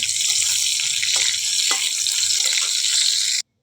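Pointed gourd (potol) frying in oil in a pan, a bright, even hiss of sizzling with a few soft stirring knocks, cutting off abruptly at the end.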